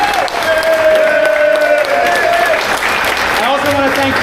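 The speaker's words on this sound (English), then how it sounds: "applause to the instrumentalists again," Audience applause for instrumentalists at a spring concert, a dense, steady clapping that fills the whole stretch at close range while sustained tones linger underneath.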